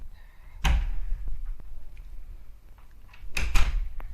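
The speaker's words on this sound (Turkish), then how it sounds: "Kapı açıldı arkadaşlar." A door in a locked room swings open with a sharp clunk, followed a few seconds later by a quick double knock-like bang against a low background rumble.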